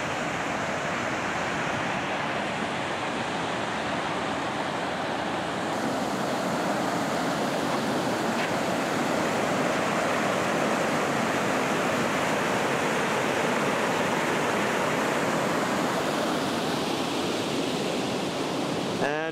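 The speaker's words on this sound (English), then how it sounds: "It's what they call the Tiny Falls." A small waterfall known as the Tiny Falls on the Milwaukee River in Estabrook Park: a loud, constant roar of rushing water, close by and steady throughout, with no clear voices.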